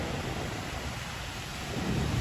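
Rain pours steadily during a Saturday night storm in Manhattan, New York City, a dense hiss with low rumbling underneath, constant and fairly close with no voices.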